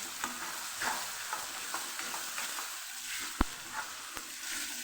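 Soft sizzling of chopped tomatoes frying in a pan, with light scraping and stirring strokes and a few sharper knocks of a spoon against the pan.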